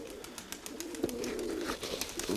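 Pigeons coo softly in repeated low, throaty calls, several birds close by, with light rustling and clicks around them and no talking.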